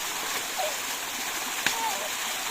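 A waterfall where friends are bathing, heard as a steady broadband rush of falling water throughout, with a brief splash near the middle and faint voices in the background.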